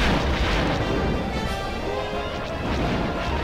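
A torpedo launched and detonating in the Star Wars Rogue Squadron game, a loud, dense crashing blast that rumbles on continuously for several seconds with no pause.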